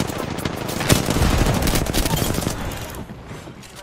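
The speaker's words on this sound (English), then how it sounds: "Listen up, I'm getting shot at." Rapid automatic gunfire in the battle royale game Apex Legends crackles in dense, close bursts with a sharp single report, then fades toward the end while a voice talks underneath.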